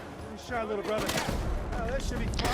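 Gunfire from the Uncharted 4 video game: a burst of shots in a combat scene, mixed with in-game voices throughout the short stretch.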